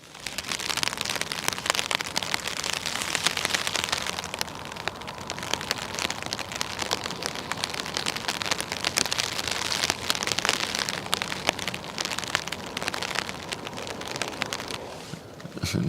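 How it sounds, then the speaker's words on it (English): Heavy rain pours down continuously on surfaces outdoors at a riverside ship-spotting spot, a dense, hissing patter with scattered louder drop hits throughout, no voices heard. "the rain is getting even worse. You guys hear the rain?"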